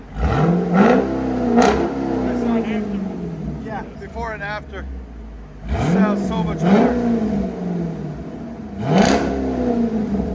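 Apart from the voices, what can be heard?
Dodge Durango SRT 6.4L HEMI V8 engine revving, aftermarket exhaust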